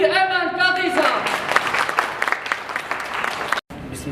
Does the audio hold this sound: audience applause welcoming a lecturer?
yes